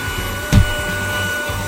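A WOODMAN WMVC-02 cordless vacuum mop runs with a steady motor whine and airflow hiss while mopping a floor, broken by a brief bump or clunk.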